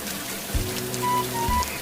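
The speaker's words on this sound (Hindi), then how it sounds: "बारिश होने लगी" Cartoon rain starts to fall, a soft hiss of drops layered over tonal musical lines in a brief stretch with no voices.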